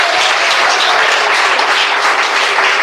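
Congregation clapping in a church service, a dense, steady wash of applause filling the room throughout, close and loud with no voices on top.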